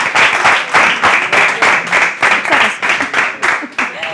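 Audience at an Easter show with clarinet music applauding in rhythmic, slightly uneven bursts of clapping, loud and close, with a voice calling out over the clapping.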